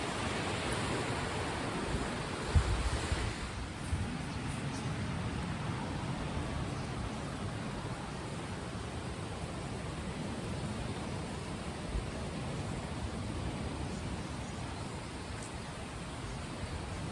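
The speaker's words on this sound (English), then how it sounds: "To show you a little bit the sea today, it's quite rough." Rough sea in Bali during the wet season, a steady, broad roar of surf that continues unbroken and fairly loud with no voices.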